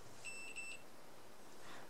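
Short high electronic beeps from the continuity buzzer of a Hantek 2D42 handheld oscilloscope multimeter, two quick faint tones over steady background hiss.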